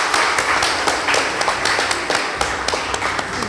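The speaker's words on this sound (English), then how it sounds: "Please give them a round of applause." Audience applauding a girls' secondary school debate team at a school debating contest, a steady wash of many hands clapping with sharper individual claps, loud and close, lasting throughout.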